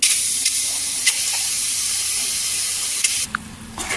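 Ground amla paste dropped into a hot kadhai on a gas flame, a loud, close burst of sizzling and spattering that holds steady, then drops sharply to a softer hiss near the end.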